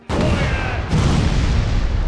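The main cannons of a ship fire in the naval video game Furious Seas. A heavy booming blast hits first, then a second rumbling report follows, and a loud sustained roar carries on throughout.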